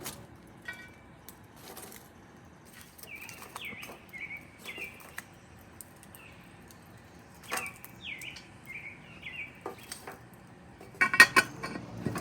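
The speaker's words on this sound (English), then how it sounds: "And now I'll add many coals to the top to make a hot oven again." Hot coals set onto a cast-iron Dutch oven lid over a campfire while a chicken pot pie bakes: scattered metallic clinks and scrapes, a louder clattering burst near the end, with birds chirping faintly throughout.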